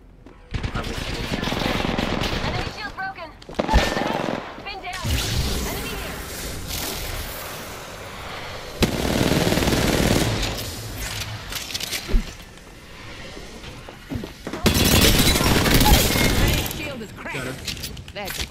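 Rapid-fire bursts from a Mozambique shotgun in a video game, a fast stream of loud, dense shots in several bursts across the stretch, with people talking and exclaiming over the gunfire.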